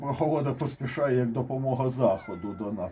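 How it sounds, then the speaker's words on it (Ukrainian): A cat meows insistently, wanting to get out onto a balcony, its cries mixed in under a man's continuous speech. "Це кішка, не звертайте увагу"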